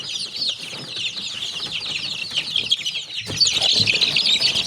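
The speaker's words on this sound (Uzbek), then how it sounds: "Hozir bu yerda yana bitta jo'jamiz bor." A young chick cheeps continuously in shrill, rapid peeps close by, getting louder and busier toward the end, with no speech.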